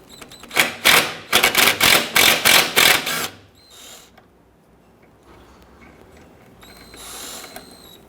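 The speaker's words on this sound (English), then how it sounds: "Using a 10mm socket, we're going to loosen and remove this bolt." A ratchet wrench with a 10mm socket loosens a bolt on a 2006-2010 Hummer H3 during parking brake cable replacement, giving a rapid run of loud, close clicking strokes, then quieter fiddling and a brief second burst of clicks.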